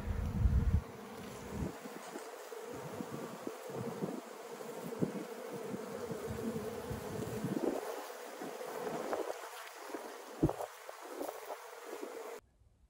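Honey bees feeding on honey from a bucket make a faint, continuous buzzing hum, with occasional louder passes of individual bees near the microphone and some wind noise, and no one speaking.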